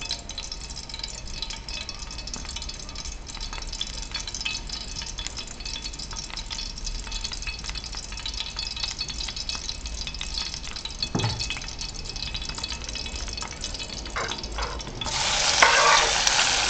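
Corned beef sizzling and frying in a hot pan, a steady close crackle with occasional stirring scrapes and a louder burst of sizzle near the end.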